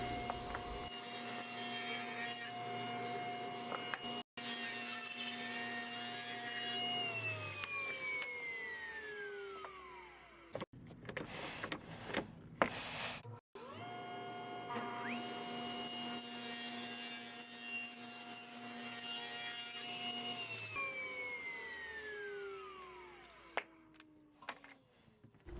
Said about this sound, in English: Now I'll get everything milled to the dimensions I want it.